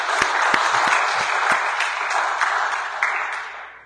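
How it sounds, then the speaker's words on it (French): A church congregation applauds for the mothers during a Sunday service, a dense, steady burst of clapping from a crowd in a hall that carries on for several seconds and then starts to fade. "Acclamons pour nos mamans."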